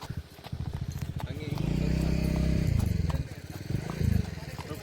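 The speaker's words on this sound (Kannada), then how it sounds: "ಇದೇ ಫಸ್ಟ್ ಟೈಮ್ ಕುದುರೆ ಹೋಗ್ತಾ ಇರೋದು" Horse hooves during horse training, a rapid, close clip-clop running steadily under a voice speaking loudly over much of it.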